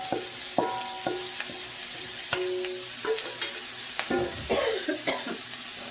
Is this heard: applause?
no